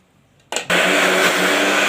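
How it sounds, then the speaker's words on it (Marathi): After a brief quiet moment, a mixer grinder starts up with a short burst and then whirs loudly and steadily while grinding spice masala paste with a little water. "तर आपण आता वाटून घेऊया"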